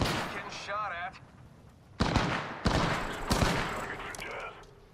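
Video-game gunfire comes in sharp bursts under the noise of play, with a loud report near two seconds and more at about two and a half and three and a half seconds. Talk is heard early on.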